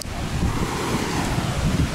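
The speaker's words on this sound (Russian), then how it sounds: "Блин, смотри, опять волны, а." Sea waves washing on a beach at Melekino on the Azov coast, a continuous low surf rumble mixed with buffeting wind on the microphone, fairly loud and steady throughout, with no speech.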